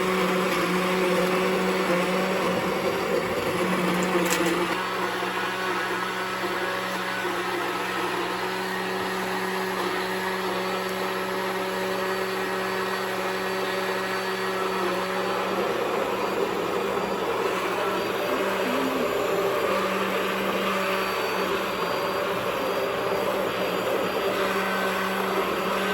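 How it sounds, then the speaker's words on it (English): An immersion blender whirs steadily in a pot of curry butternut squash soup, a constant loud motor drone held below the surface for nearly half a minute, with no voices. "Make sure to keep the blender down below the water line."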